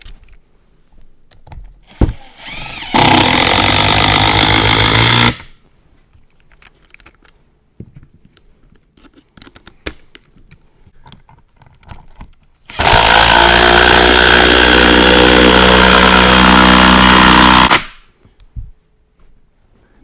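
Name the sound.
impact driver running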